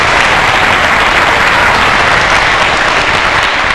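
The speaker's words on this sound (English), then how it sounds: "Give them a hand for kindness." Audience at a school show applauds, a dense, loud, continuous wash of clapping from many hands that holds steady throughout without a break.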